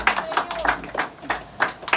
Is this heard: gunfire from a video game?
no